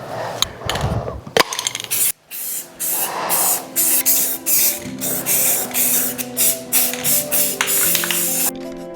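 Aerosol paint and primer sprays onto a jet ski in a long hiss and then many short, rhythmic bursts, close and fairly loud, with faint handling clatter at the start.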